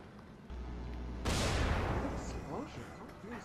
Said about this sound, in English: Explosion. You don't hear that boom?